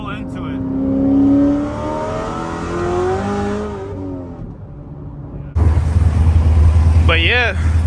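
An 800-horsepower Chevrolet Corvette C7 ZR1 with a manual gearbox accelerates, its engine note rising in pitch and falling at gear changes, then giving way to a loud, rough rumble of wind and road noise.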